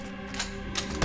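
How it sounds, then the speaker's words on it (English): Ammo reload in Resident Evil 4, a quick series of sharp mechanical clicks and clacks from a weapon being loaded, close and crisp with no talk. "Ammo reload."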